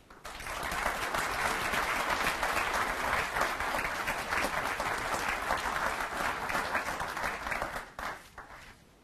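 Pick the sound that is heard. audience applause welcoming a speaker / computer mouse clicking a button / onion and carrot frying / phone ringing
audience applause welcoming a speaker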